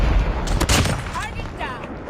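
Close-range gunfire from a Kilo bolt-action rifle in Call of Duty: a sharp booming shot with a rolling echo tail, followed by brief in-game voice chatter.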